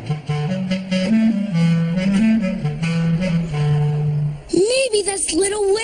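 Quincy from a children's cartoon plays a wobbly, gliding tune on an instrument in imitation of a whale call, steady and fairly loud, ending in a sudden swooping high cry.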